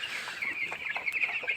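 A shed flock of about 500 eleven-day-old broiler chicks peeps and clucks continuously in a dense, steady chorus, close and fairly loud.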